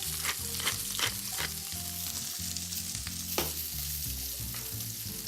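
Eggplant and peppers fry in a hot pan with a steady, bright sizzle, broken by the clatter and scrape of stirring utensils; close and continuous, with no voices.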